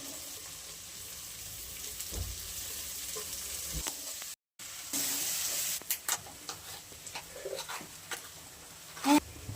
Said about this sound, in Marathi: त्याला ते चांगलं परतून घेऊयात आपण. ही बारीक चिरलेला कांदा टाकूयात.